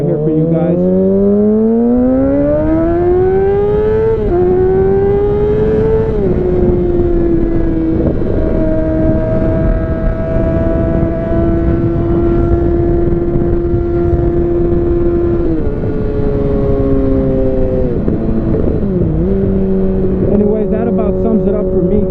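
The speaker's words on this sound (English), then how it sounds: "I'm gonna do a quick pull right here for you guys." A 2013 Kawasaki 636 motorcycle pulls hard from close range, its engine note climbing steadily through the revs with brief dips at gear changes, loud and continuous with heavy wind roar underneath.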